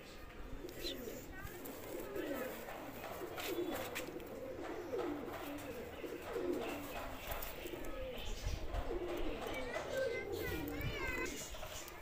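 Pigeons coo softly in a steady murmur while voices talk and chatter nearby over low background noise.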